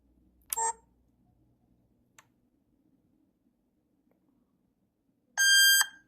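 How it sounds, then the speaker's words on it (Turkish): A 360° Wi-Fi IP security camera gives two short electronic reset beeps, one faint click between them, and a longer, louder beep tone near the end, against near silence. "Bip sesi geldikten sonra tekrar bir hareket etmesini bekleyeceğiz."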